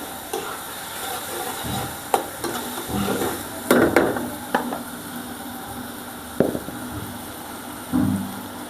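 Ginger paste and garlic paste being stirred in a frying pan for a Bengali beef brain curry, with irregular scraping knocks of the spoon and soft sizzling underneath, moderately close.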